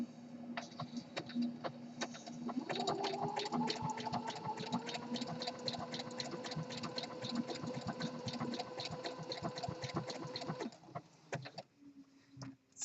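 A home sewing machine stitches an elastic waistband onto boxer briefs with a rapid, even mechanical whirr and steady needle clatter, close and fairly quiet, stopping near the end.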